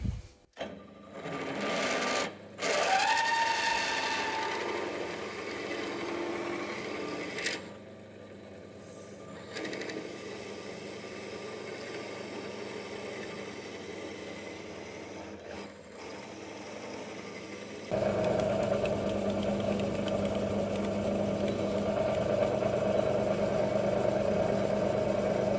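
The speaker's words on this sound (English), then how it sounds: "that is the hole drilled" A power drill whirs in bursts, starting and stopping, then a steadier continuous grinding hum as the bit bores through, close by, drilling a Hagglunds BV206 track tensioner part.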